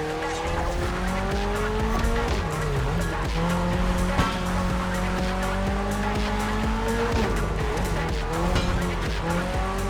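A lightweight, naturally aspirated Toyota GR86 drifts through neon-lit city streets in The Crew Motorfest. A loud, steady engine drone runs throughout, with rising and falling pitch and sustained tire squeal layered over it.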